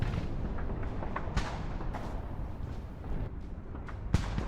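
Tank cannon fire in the Arms Trade Tycoon Tanks video game: a couple of sharp booming shots over a dense, rumbling battle background, with no talking.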